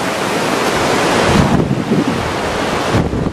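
Loud, continuous rushing roar of a fast, flood-swollen river during a storm in Morocco, heavily buffeted by wind noise across the microphone, steady throughout with no voices.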